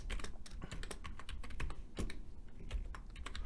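Keys on a computer keyboard are tapped quickly and irregularly for a password, a close, crisp run of clicks with short pauses between bursts.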